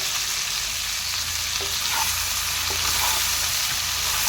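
Indian beans frying in a pan and being stirred, a steady close sizzle with a few faint scrapes from the stirring, no voices.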